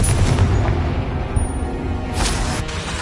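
Confringo spell blasts in Hogwarts Legacy on PlayStation 5, a dense rumbling boom with low heavy impacts and a second burst near the end, loud and continuous with no talk.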